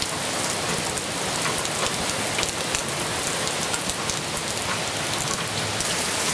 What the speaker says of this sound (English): It's raining quite heavily here in the Texas.